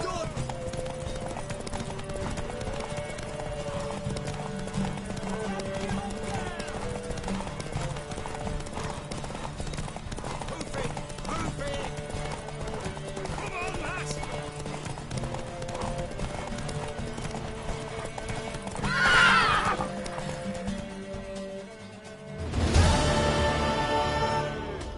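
In The Witcher 3 video game, a horse's hooves clip-clop steadily throughout and a neigh rings out near the end, mixed with game music and voices talking.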